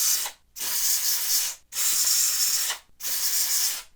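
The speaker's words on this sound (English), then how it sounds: "We'll use this WD-40 contact cleaner, which is a little more powerful spray." WD-40 contact cleaner sprayed inside a bug-infested PS4 Slim console, three loud, close hissing bursts of roughly one second each, separated by short pauses.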